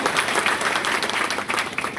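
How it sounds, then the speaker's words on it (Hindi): An audience at a poetry gathering claps loudly and steadily for an honoured guest, a dense, continuous round of applause filling the whole stretch without letting up. "मैं चाहता हूँ आगे से पीछे तक जोरदार तालियां आदरणीय गुरुदेव के लिए होना चाहिए।"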